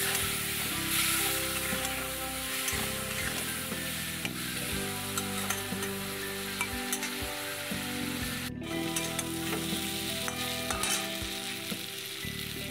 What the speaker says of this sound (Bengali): সামান্য জল দিয়ে এবার কষিয়ে নেব।